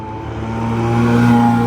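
A Bugatti Chiron Super Sport arriving along a street during Monterey Car Week, a loud, steady engine drone with strong low harmonics that swells gradually as the car draws near.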